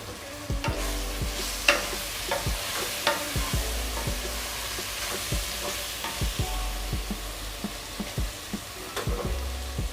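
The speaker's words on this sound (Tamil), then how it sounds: "இதை நல்லா வதக்கிக்கோங்க." Sliced mushrooms sautéing in a pan with tomato for mushroom biryani made in a pressure cooker, a steady sizzle broken by frequent clacking stirs of a spoon against the pan, close and continuous with no talk.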